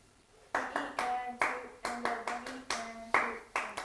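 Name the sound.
volunteer clapping the next rhythm measure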